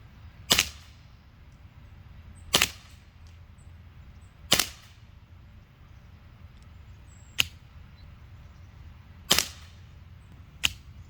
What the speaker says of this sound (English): I actually tried 3 different BBs out of this gun, and they all shot perfectly.